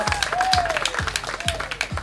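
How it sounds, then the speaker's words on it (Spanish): An audience at a corn festival claps in a short burst of rhythmic applause, with a voice over a loudspeaker partly heard above the clapping. "¡Aplausos!"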